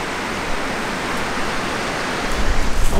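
A waterfall near a campsite gives a steady broadband rushing roar up close, with a few louder splashy surges toward the end.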